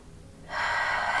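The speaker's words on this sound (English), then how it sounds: "Take a deep breath in and out." A deep breath during a yoga flow, a soft quiet start then a strong breathy rush that continues steadily to the end, close and alone with no talking.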